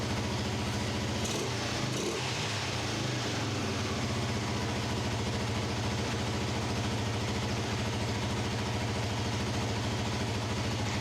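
A Honda NX250 motorcycle engine idles steadily, a constant low, even drone that holds unchanged throughout with no voices.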